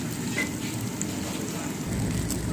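Chana dal pajeeri roasting in a kadhai: a steady, even sizzle and soft crackle throughout, moderately loud, with no talk.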